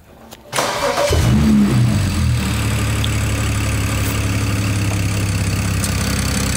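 A BMW N54/N55 engine with upgraded ignition coils cranks briefly, catches with a loud rising rev, then settles into a steady idle that rumbles on close by without talk.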